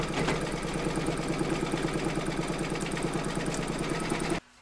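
Embroidery machine satin stitching the outer border of a fabric coaster in a hoop, a steady fast mechanical whirring hum with rapid needle pulses, loud and close, stopping abruptly at the end.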